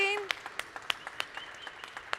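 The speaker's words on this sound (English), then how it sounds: "Please give Facu an applause, because he did great." Scattered hand claps from a small audience at a conference stage, uneven and fairly light, with a brief voice at the start.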